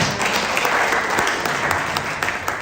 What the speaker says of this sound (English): I would request you to give them one more round of applause